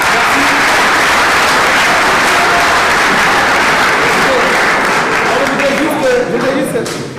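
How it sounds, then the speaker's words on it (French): Theatre audience at a comedy festival show applauding loudly and steadily throughout, dense clapping filling the hall with a few voices faintly mixed in. "Applaudissez pour vous-même, s'il vous plaît."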